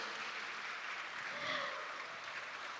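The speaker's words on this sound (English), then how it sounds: "give applause for her" Applause from a conference audience for a moderator coming on stage, a steady, moderately faint wash of clapping across the hall with no voices over it.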